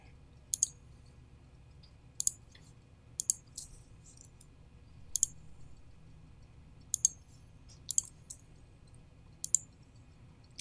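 Sharp, sparse mouse clicks while working in Adobe Illustrator on a computer, about eight isolated ticks spaced irregularly over a low, steady background hum, close and fairly crisp.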